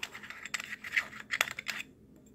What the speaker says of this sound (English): So you can take this off. It just screws off.